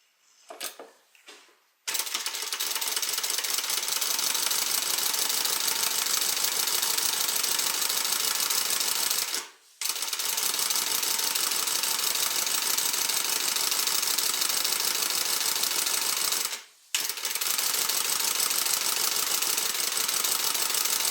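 Sewing machine stitching a handbag, a loud, even mechanical whir running continuously in long stretches, broken by two brief pauses and starting after a few short taps.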